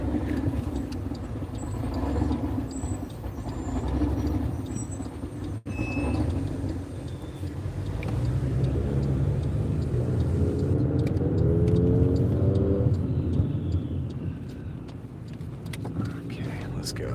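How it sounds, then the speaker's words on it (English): Chevrolet Camaro engine in traffic: a deep, continuous rumble that swells in the second half over road noise from inside a moving car, with people talking over it. "y'all want to hear this Camaro? Listen to this Camaro."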